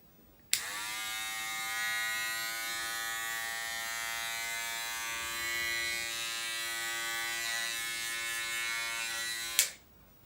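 Modified Andis T-Outliner hair clippers switch on and run with a steady, loud electric buzz for about nine seconds, then cut off abruptly; no voices.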